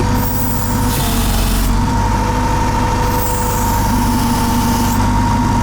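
A Trackless MT5 snowblower engine runs steadily up close, a loud continuous mechanical drone with a few hissing air-like surges layered over the constant hum.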